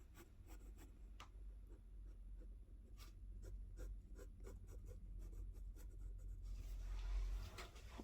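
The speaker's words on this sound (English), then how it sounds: "I'll go through and erase it." Rubbing of an eraser across paper while clearing a pencil sketch beneath marker lines, heard as a steady close scratchy friction with repeated short strokes and taps throughout, no voice.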